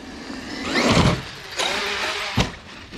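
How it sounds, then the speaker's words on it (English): An X-Maxx RC truck bursts to full throttle outdoors, its electric motor whining up in two strong surges with a thump as the heavy truck lands, fairly close and loud with no voices. "pretty much full throttle bursting right then"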